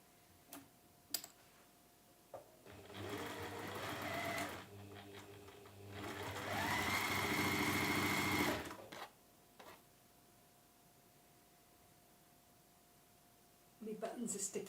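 A sewing machine stitches quilt blocks in two sustained runs of rapid mechanical whirring close by, with quiet clicks and brief pauses between them in an indoor textile workspace.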